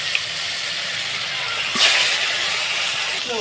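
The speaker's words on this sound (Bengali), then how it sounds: "এখন একটা একটা করে মাছগুলো ছেড়ে দিয়ে ভেজে নেব" Koi fish hiss and sizzle in hot oil in a wok, a steady bright frying noise with a brief louder spit partway through.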